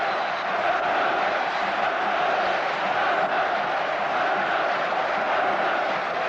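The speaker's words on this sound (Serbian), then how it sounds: "Namerno sam začutao da čujete aplauze navijača Partizana" Partizan fans in a football stadium after a 1:0 loss to Newcastle United, a dense, steady roar of crowd noise and applause that stays far off and unbroken throughout.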